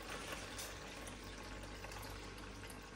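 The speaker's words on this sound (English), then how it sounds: "Next, I'm going to put in my water to fill it right up to the..." Hot water poured into the reservoir of a Tower 10 cup drip coffee maker, a soft continuous splashing trickle heard close up and fairly quiet, without any voices.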